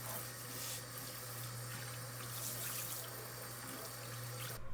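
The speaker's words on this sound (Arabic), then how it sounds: "لما انزل فيه الميه المغليه بالخل بتنضف الحوض من جوه" Water pours steadily into a kitchen sink, boiled water mixed with vinegar running down the drain, a continuous even rush of liquid with a low steady hum beneath it and no talking.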